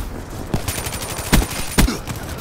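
Gunfire in the video game Black Ops 3 near an embassy, a steady crackle of automatic fire with two louder, sharper shots standing out toward the middle and end.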